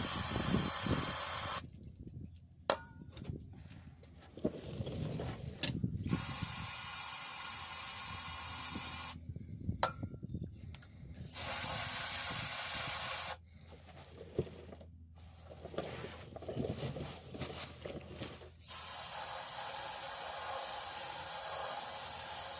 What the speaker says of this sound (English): Give her a little bit of lube.